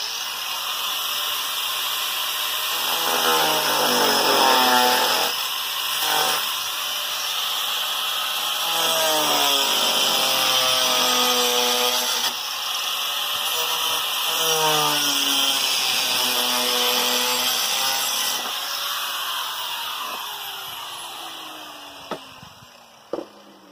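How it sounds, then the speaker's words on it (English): An angle grinder with a diamond blade cuts Hardie fiber cement siding, giving a loud, close, high whining scream that rises and falls through several pitch-sweeping cuts. The motor spins down at the end, followed by a few sharp clicks. "For small cuts like this, I like to use an angle grinder and a diamond blade."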